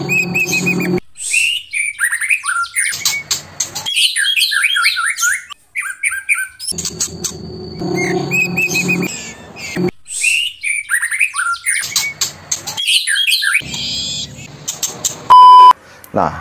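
Bursts of bright, rapid chirping and trilling from a songbird, close and loud, with short pauses between phrases and a brief electronic beep.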